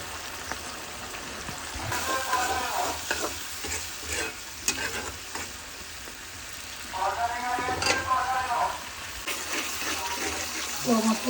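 Tomatoes, green chilies, garlic and spices simmer in a pan with a splash of water, a steady soft sizzle broken by stirring scrapes and bursts of bubbling, up close with occasional speech.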